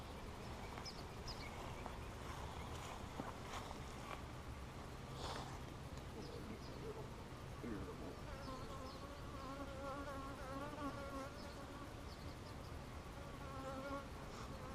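Honey bees in a bee yard buzz in a dense, continuous swarm drone, with faint individual bees passing close, and no talk.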